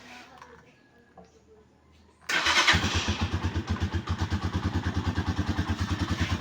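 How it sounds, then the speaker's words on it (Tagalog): A Rusi motorcycle engine starts after a quiet stretch and settles into a steady, loud, rhythmic idle as it warms up, its regular pulsing filling the rest of the clip. "Painit mo na ang motor."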